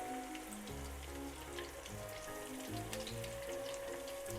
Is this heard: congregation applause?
no